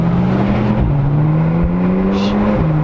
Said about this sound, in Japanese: ポルシェ911ターボ S です。